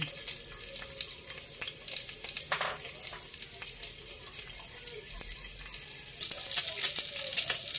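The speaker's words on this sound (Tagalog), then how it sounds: "So, meron ako itong egg. Ipa-fry ko muna." Egg frying in a hot pan, a steady crackling sizzle with sharp spatters and pops that grow busier and louder toward the end.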